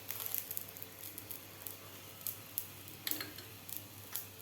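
Broccoli paratha frying in oil on a pan over medium heat, giving a faint, steady sizzle with soft scattered crackles and pops, quiet and with no talk.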